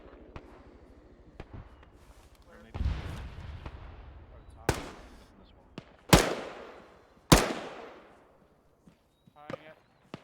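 Sharp gunfire reports ring out during an infantry platoon field training exercise, with a few loud isolated shots spaced seconds apart among fainter pops, outdoors with some distant talk and movement.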